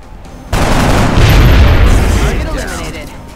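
A soldier's gunfire in the XCOM strategy game, a single loud burst that erupts sharply and rumbles on for a few seconds before fading.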